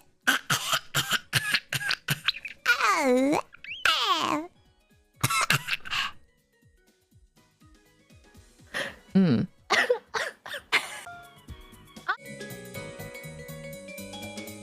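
A person imitates a baby coughing, giving a series of short, high, squeaky coughs and throat-clearing bursts in uneven clusters. The voice is close and loud, with brief pauses and some vocal squeals between the coughs.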